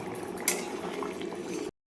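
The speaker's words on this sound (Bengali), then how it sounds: "এবার পরিমাণ মতন জলটা দিয়ে ভালো করে ফুটিয়ে নেব।" A crab and vegetable curry boils after water is added, a steady close bubbling with one brief knock near the start, ending abruptly after under two seconds.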